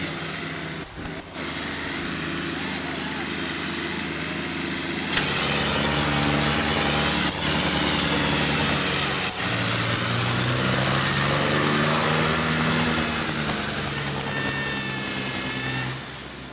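Several tractor engines roar and drone steadily at a tractor tow chain competition in Kulewal, Samrala, with a rough, pulsing start before the sound settles into a loud, continuous revving whine.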